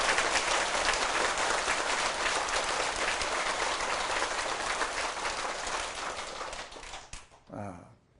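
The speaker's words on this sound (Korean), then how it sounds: "이분들을 위해서 여러분 박수 좀 쳐주십시오" An audience at a large Buddhist dharma assembly applauds after the monk's request. The clapping is loud and sustained for about seven seconds, then tapers off into a brief faint voice near the end.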